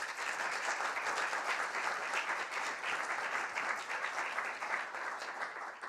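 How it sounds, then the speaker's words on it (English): A dense, steady round of applause from an audience at a student society talk, sustained and even for several seconds with no break. "So let's give a round of applause for Marlene Pelage."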